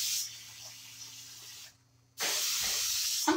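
Cooking spray hisses onto a pan in a home kitchen in two bursts, a steady hiss of about a second and a half, a short silence, then a second loud, close spray.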